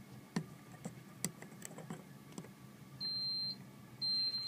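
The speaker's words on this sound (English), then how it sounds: "Now the water alarm is beeping." Protected Home WA 700 water alarm dialer beeping: two steady high-pitched electronic beeps about a second apart, loud and close, after a stretch of faint ticking and small clicks.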